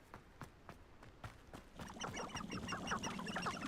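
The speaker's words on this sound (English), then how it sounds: "The birds didn't spawn in till after they started making noise." Several birds call in the video game Hogwarts Legacy, with a cluster of repeated honking, quacking-style cries starting partway through and continuing steadily over a faint ambient background, after a few isolated earlier knocks.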